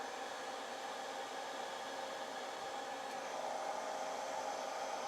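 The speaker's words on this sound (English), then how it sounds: "The hairdryer on low." A hair dryer running on its low setting, powered by a Jackery Explorer 1000 portable power station, gives a steady, close, continuous airy whir that holds level the whole time, with no talking.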